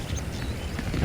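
Saddled horses' hooves clip-clopping in the Red Dead Redemption video game, a brief stretch of soft, close hoof taps over low rumbling game ambience.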